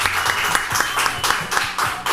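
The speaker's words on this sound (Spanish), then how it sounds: "Yo quiero pedir un aplauso muy fuerte para Patricia Pereira" A TV talk-show studio audience keeps up a dense, steady round of applause with scattered claps standing out.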